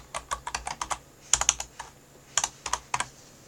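Quick keystrokes on a computer keyboard as a short reply is typed, coming in three small flurries with brief gaps, close and fairly quiet with no voices.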